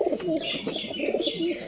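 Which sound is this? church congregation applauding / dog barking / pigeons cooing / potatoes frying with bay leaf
pigeons cooing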